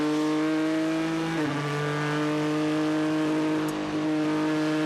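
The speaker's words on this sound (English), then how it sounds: "the first flying laps for these cars in the session" Steady high-pitched engine whine of WEC endurance race cars on flying qualifying laps at Bahrain, a sustained roar with a brief pitch drop as gears shift, loud and continuous.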